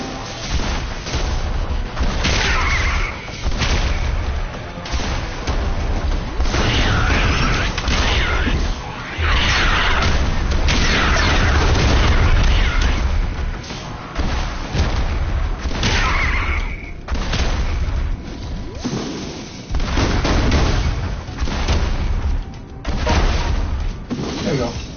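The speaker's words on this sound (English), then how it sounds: "shooting rockets" Rockets launching and bursting in the game Rogue Stormers, with repeated heavy booms, whooshes and crackling blasts that pile up densely across the stretch, loud and close, while a voice talks over the action.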